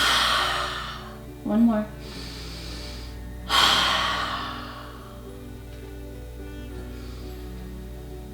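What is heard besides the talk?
deep inhales and exhales through the mouth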